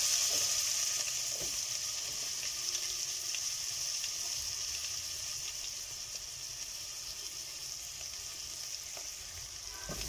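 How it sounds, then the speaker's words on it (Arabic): Onions sautéing in melted ghee for lentil soup, a steady close sizzle and bubbling hiss that fades slightly over time, with faint stirring taps. "هنشوح البصل لحد بس ما يدبل"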